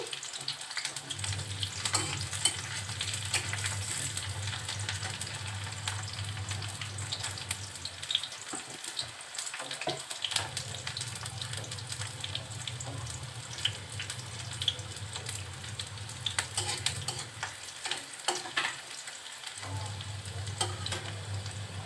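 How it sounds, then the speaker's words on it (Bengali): Onion and green chili fry in a pan as they are stirred, a soft, fairly quiet sizzle with intermittent scraping over a low steady hum that drops out briefly a few times. "পেঁয়াজটা যখন নাড়াচাড়া করতে করতে একটু নরম হয়ে আসবে"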